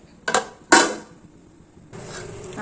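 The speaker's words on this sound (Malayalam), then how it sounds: "ഇനി നമുക്കത് മൂടി വയ്ക്കാം." A lid goes onto a pot of sardine curry with two quick clinks and a short creak, then a quieter bubbling as the pot settles.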